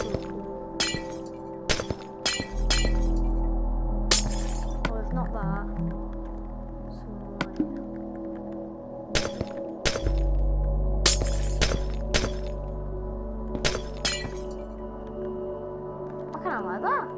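Glass blocks shattering in the Minecraft video game, many sharp breaking crashes spread irregularly through the stretch, loud and close, over a steady low game background.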